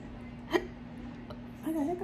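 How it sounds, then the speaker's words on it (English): A single short, sharp hiccup sounds close by and fairly soft. A brief, faint voiced sound follows a moment later. "I got hiccups and burp."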